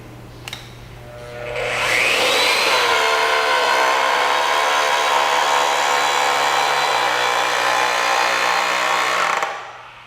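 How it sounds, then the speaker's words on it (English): A UDT DB-32 electric pipe bending machine bends a pipe, its motor spinning up after a click into a loud, steady whirring drone that holds for about seven seconds before cutting off, with no talking. "Press the trigger switch and hold until the pipe is bent to the desired angle."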